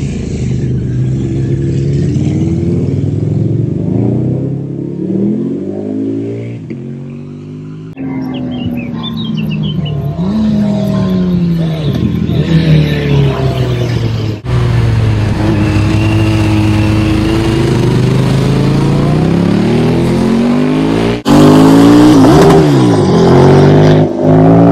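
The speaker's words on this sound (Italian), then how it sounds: "Il suono delle moto in montagna." Several motorcycles climb a mountain hairpin road, engines rising and falling in pitch as they approach, rev through the bends and pass close by in overlapping waves, with occasional bird calls in the background.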